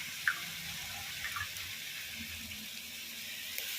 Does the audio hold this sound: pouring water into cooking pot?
yes